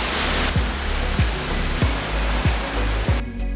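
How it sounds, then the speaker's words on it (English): Rushing water from waterfalls in northern California, a steady broadband roar of flowing water close by, with faint low thumps recurring about every half second and no talk. "So this is where all the water goes to from the waterfalls."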